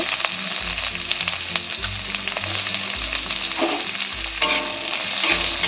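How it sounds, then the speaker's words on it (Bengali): Chopped onion frying in hot oil with nigella seeds for a stuffed pointed gourd and prawn dish, a steady close sizzle with periodic stirring scrapes and low rhythmic thumps throughout. "পেঁয়াজটা আমি হালকা করে ভেজে নেব"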